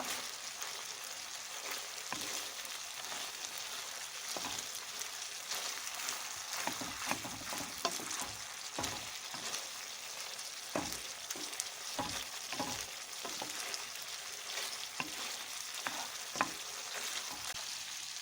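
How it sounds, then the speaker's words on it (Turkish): Chicken sizzles and crackles steadily in butter in a hot pan, with intermittent stirring scrapes and clicks, fairly quiet and without talk. "Tereyağı ile beraber etimizi şöyle bir iki dakika kadar kavuruyorum"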